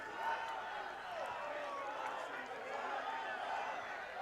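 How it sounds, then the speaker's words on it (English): The Malvern Prep lacrosse bench at an Inter-Ac championship game shouts and cheers, a dense murmur of many overlapping voices with some crowd noise, heard from a distance. "that noise you hear coming from the microphones, not necessarily the crowd, it's actually the bench, too, of Malvern Prep"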